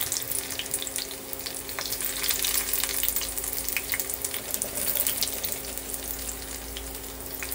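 Chopped garlic sizzles in hot ghee, a steady, close crackling fry with fine spitting pops and a faint hum underneath.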